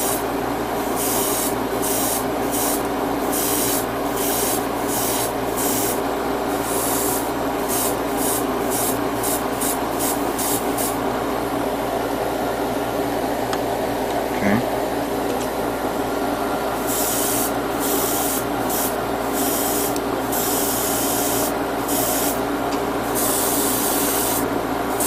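Airbrush spraying paint onto an HG Silver Bullet Char Suppressor Gundam model kit, a steady continuous hiss with rhythmic on-off bursts as the trigger is worked, close and alone.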